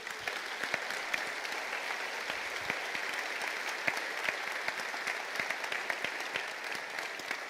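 Church congregation claps during a sermon, a dense, even wash of applause from many hands, steady and fairly distant throughout.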